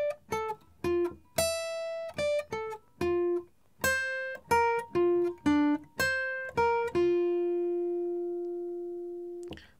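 Solo guitar picks the melody of a song, a run of clean, distinct plucked notes in a steady phrase that ends on one long ringing note fading out.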